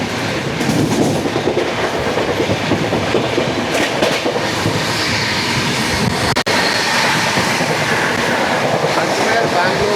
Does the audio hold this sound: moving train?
yes